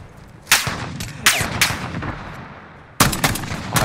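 Gunfire in a Modern Warfare video game: several loud, sharp shot bursts in separate groups, with a clustered volley near the end over a low, rumbling battlefield bed.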